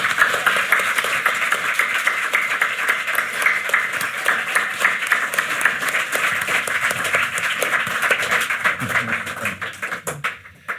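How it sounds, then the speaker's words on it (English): A live audience applauds a guest on a Christmas podcast special, a dense, steady wash of many hands clapping for about ten seconds before thinning out at the end, with no talk over it. "let's give him a round of applause"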